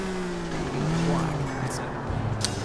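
A fast car driving in Grand Theft Auto IV, building up speed toward a stunt jump through a tunnel, with a steady loud engine drone and shifting whine, tire noise and a voice speaking over it.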